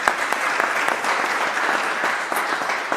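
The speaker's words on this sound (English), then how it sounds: "clap it up" Applause from an audience at a public museum meeting in Annapolis, a dense sustained clapping that holds steady for about three seconds, with no talking over it.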